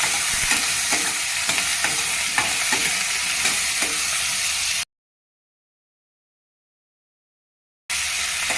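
Vegetables for sambar crackle and sizzle in hot spiced oil tempering as they are stirred with soft scraping strokes; the sound cuts out completely for a few seconds, then resumes.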